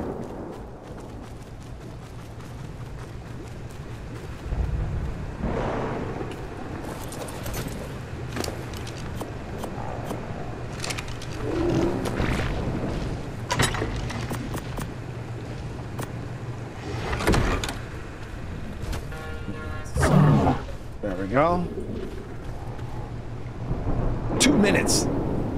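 A thunderstorm rolls through the video game ARK Survival Ascended, with rain hissing steadily and repeated cracks and rumbles of thunder, some sharp and near, others deeper and rolling.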